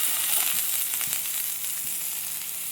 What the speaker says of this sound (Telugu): ఇప్పుడు ఈ నూనెలోనే ఆనియన్స్ వేసుకుంటాం